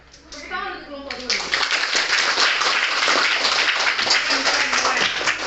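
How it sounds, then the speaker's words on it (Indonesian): Classroom applause for a student group: many hands clapping loudly and steadily for several seconds, with children's voices mixed in. "Oke, tepuk tangan untuk kelompok 2."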